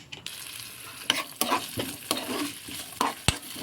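Ghee sizzles steadily in a pan while cashews, raisins and coconut pieces fry, with several sharp clinks and scrapes of a spoon stirring against metal.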